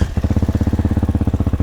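An X-Pro Hawk DLX 250 fuel-injected motorcycle engine idles close by, a steady rapid low thumping pulse that runs loud and even throughout with no talk over it.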